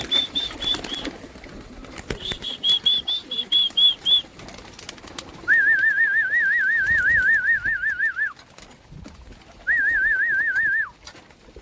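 Pigeons eating a feed mix flap their wings in bursts nearby, while steady whistling tones recur between the flutters.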